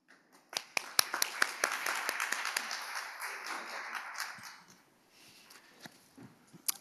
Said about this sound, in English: And please give a big round of applause.